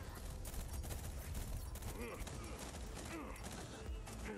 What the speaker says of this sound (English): Maybe it's just because it's a burst rifle and that's the archetype of the weapon.